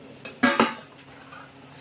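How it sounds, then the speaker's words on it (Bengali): A metal lid clanks as it is lifted off a pot of Bengali-style mutton curry with potatoes, giving two sharp close clinks in quick succession and another brief clink at the end. "এবার আমি ঢাকনাটা খুলে দেখবো।"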